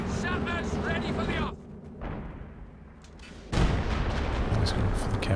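A mortar pit blown up in Company of Heroes 2, heavy booming explosions and battlefield rumble under an excited commentator's voice, with a loud blast surging in partway through.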